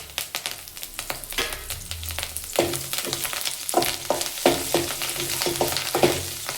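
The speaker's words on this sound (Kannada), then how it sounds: "ಕರಿಬೇವಿನೆಲ್ಲ ಹಾಕೋತೀನಿ." Curry leaves fry in a little oil in a pan, crackling and sizzling steadily with repeated scraping stir strokes, close and fairly loud, no voices.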